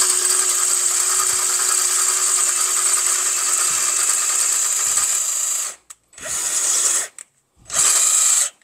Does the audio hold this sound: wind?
no